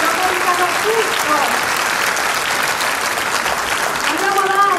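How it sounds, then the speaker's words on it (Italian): Audience in an Italian theatre applauds steadily for several seconds, a dense, even wash of clapping from a full hall, with a few voices and faint musical tones rising over it near the end. "applauso, per favore."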